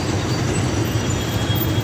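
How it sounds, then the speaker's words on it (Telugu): A local train rumbles past near a railway station in Secunderabad, a steady low droning roar that fills the whole moment with no pauses or voices. "అక్కడ నుంచి లోకల్ ట్రైన్ వెళ్తుంది."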